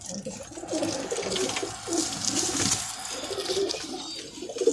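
Pigeons from a hobby loft in Lahore coo softly amid a busy, rustling background of wing flutters and movement, steady and fairly close throughout.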